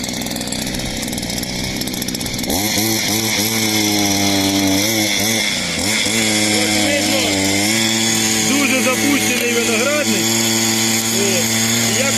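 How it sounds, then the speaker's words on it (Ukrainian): Petrol brush cutter rigged as a motor hoe tilling heavy soil: a loud two-stroke engine drones close by with repeated revving surges as the blades dig in. "подивитися на практичне використання самого девайса, тобто мотокоси у ролі мотосапи і як воно працює на важкому ґрунті"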